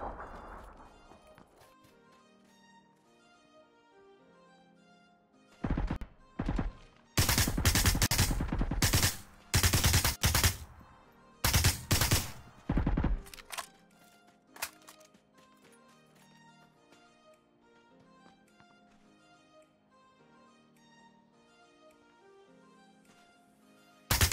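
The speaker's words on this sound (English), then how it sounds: "I just heard gunshots" Gunfire in PUBG, heard as several bursts of sharp, loud rapid shots spread over a few seconds, standing out against quieter in-game background music and ambience before and after.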